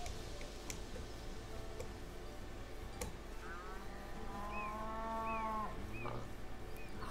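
Cows mooing in the video game Minecraft, a couple of low drawn-out moos rising over steady ambient game noise with occasional ticks, no talk over them.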